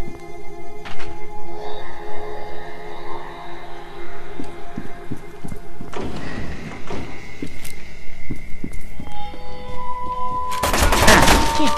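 Pistol gunfire in the video game F.E.A.R. 2, with a sharp burst of shots near the end over a busy game soundscape of rumbles, mechanical clanks and tones.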